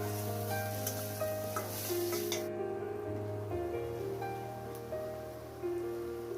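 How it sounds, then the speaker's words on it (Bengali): Onion fries in a pan with four cardamom pods, sizzling steadily and softly throughout, with a low hum in the background and a brief brighter crackle early on. "পেঁয়াজটা ভাজা হচ্ছে, আমি এখন এলাচ দিয়ে দিচ্ছি 4টা"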